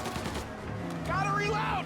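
A shootout in Mafia Definitive Edition, with rapid bursts of gunfire crackling over a busy game soundscape and a voice calling out in the background.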